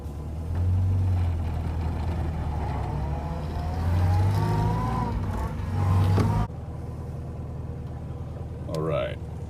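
A vintage Morris Minor 1000 engine idles and revs low while the car is put into reverse, a steady close rumble with slight swells before dropping to a quieter idle.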